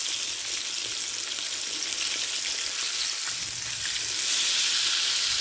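A bread bun, just flipped golden side up, fries in a pan with a loud continuous hiss and crackle up close, swelling slightly toward the end, and no voices.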